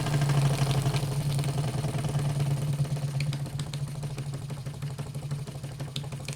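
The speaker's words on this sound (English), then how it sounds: "Bear in mind this is a well running engine, so it should slow right down." A Wilesco D16 model steam engine runs steadily, a continuous low mechanical hum with a fast rhythmic chuffing and faint metallic ticks, close and even throughout, no voices.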